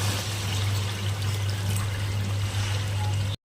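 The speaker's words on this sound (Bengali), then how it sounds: "এবার দিয়ে দিব জল।" Water pours steadily into a pan of cauliflower curry, a continuous broadband splashing rush lasting a few seconds before cutting off abruptly, with a low steady hum of the stove or fan underneath.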